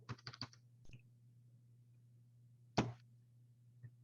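Numbers are typed on a computer keyboard in a quiet room: a quick burst of four or five soft taps, then a pause, a single sharper keystroke, and one faint final tap.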